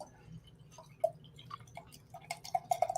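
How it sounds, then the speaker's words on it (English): Hazy beer glugs from a can into a small tulip glass, a quiet run of irregular drips and bubbly plinks that grows busier and splashier toward the end. "Got a little tulip glass here to pour it in."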